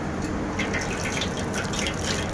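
Custard powder mixed into water is poured into milk for almond milk, a steady gushing splash of liquid filling a vessel, close and continuous without talk.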